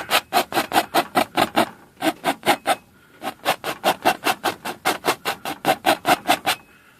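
Paint is rubbed off a surface in quick, even back-and-forth strokes, a dry rasping scrub repeated in steady bursts with a short pause midway.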